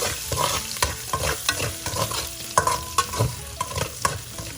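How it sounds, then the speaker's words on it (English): Minced ginger and garlic stir-fry in hot oil, with a soft continuous sizzle under a quick series of scraping, clacking spatula strokes against the pan, fairly close and moderately quiet. "we're going to add in our ginger and garlic first. And then stir that to some fine."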